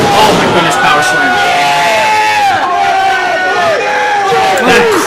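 A wrestling event crowd at Greenwood Lake cheers, shouts and whoops loudly and continuously, a dense roar of many voices with rising yells throughout.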